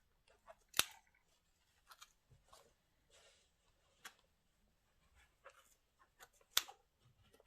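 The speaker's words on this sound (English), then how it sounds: "with the sharp scissors guys." Sharp scissors cutting yarn while making a mustard and cream poncho, a few crisp quiet snips spaced apart with soft handling rustles between, near and faint in a quiet room.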